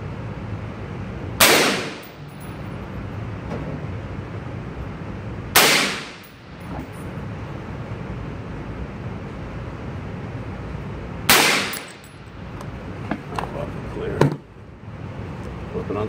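Three suppressed AR-15 rifle shots ring out at uneven intervals, each a sharp, loud crack with a short ringing tail, over steady outdoor background noise.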